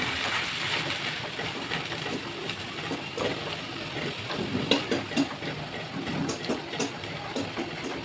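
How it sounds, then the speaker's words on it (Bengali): Masala being stir-fried with a splash of milk in a pan for egg korma, a steady moderate sizzle with irregular scraping stirs growing busier toward the end, no talk. "তারপর একটু দুধ দিয়ে মশলাটাকে কষিয়ে নেব।"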